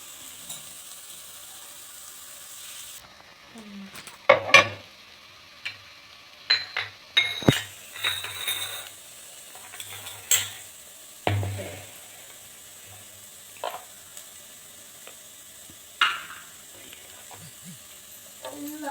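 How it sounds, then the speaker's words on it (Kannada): Poha (flattened rice) stirred in a frying pan produces scattered scraping, clinking and rattling strokes of a spoon against the pan, loud and close, separated by quiet gaps. "ಈಗ ಅವಲಕ್ಕಿನ ಮಿಕ್ಸ್ ಮಾಡ್ಕೊಳ್ಳೋಣ."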